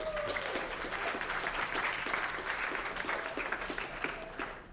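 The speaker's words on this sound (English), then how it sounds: "So now you can clap." A lecture-hall audience breaks into steady applause, many hands clapping at once in a dense, moderately faint wash that tapers off at the end.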